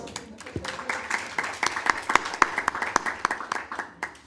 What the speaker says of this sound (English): we can give them applause